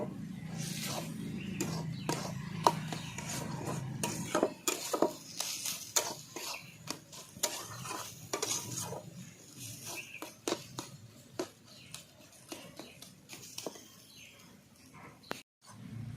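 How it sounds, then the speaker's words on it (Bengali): Jute leaf greens are stirred in an uncovered pan: a series of scraping, clattering strokes from a utensil against the pan. A low sizzle fades after the first few seconds. "এবার আমি বিনা ঢাকনারই এভাবে নাড়িয়ে চাড়িয়ে নামিয়ে নেব শাক"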